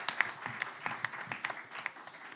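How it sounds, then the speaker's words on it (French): Audience applause at a cybersecurity conference panel, a brief, fairly faint burst of clapping with distinct individual claps, heard from a distance. "Et puis, on l'applaudit bien sûr."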